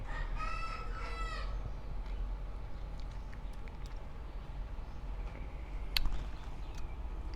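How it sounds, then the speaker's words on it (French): A rooster crows once near the start, a drawn-out call over a low constant hum, followed by quieter clucks and faint scattered sounds. "tout en étant en présence du coq"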